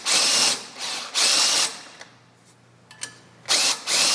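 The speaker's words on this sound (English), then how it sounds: "some of these are going to need re-countersinking, so we're going to use our Deburring again" A deburring tool re-countersinks holes in short, loud whirring bursts, several in a row with brief gaps and a few small mechanical clicks between them.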